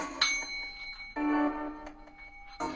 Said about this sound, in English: This phone's gonna do the bell now.